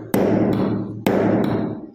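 Two loud, sharp hammer blows on a hammer being fitted with a wooden handle and an iron wedge, each strike ringing out and then decaying, with no talk.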